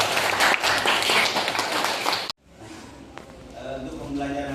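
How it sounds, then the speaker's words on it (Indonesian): Classroom students clap together in a dense, lively burst for about two seconds, which then cuts off abruptly into a quieter room where voices murmur. "Tepuk tangan dulu."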